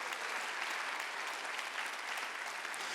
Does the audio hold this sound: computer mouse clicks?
no